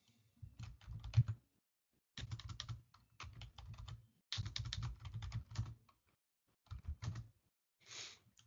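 A command is typed on a computer keyboard in short, irregular bursts of close clicking keystrokes separated by silent gaps, with no talking.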